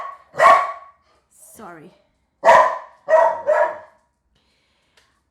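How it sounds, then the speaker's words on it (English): A pet dog named Ginger barks indoors in a condo, three sharp barks separated by short gaps, with a brief whine between them and a voice speaking. "the dog keeps barking"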